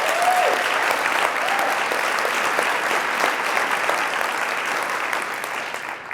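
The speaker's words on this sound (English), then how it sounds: "Let's give them another round of applause." A church congregation claps steadily during a Palm Sunday service at Seattle Unity, a full and even round of applause held for several seconds and fading slightly toward the end.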